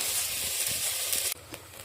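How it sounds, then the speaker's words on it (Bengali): Eggplant slices fry in oil in a rice cooker: a close, steady sizzling hiss that drops suddenly to a quieter bubbling after about a second, with light stirring clicks. "তো এভাবেই বাকি যা আছে আমি সব একে একে ভেজে নেব"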